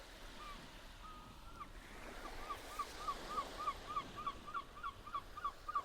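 Soft ocean waves wash and swell in a calm, faint seaside soundscape, with a run of short, repeated seabird calls chirping over the surf.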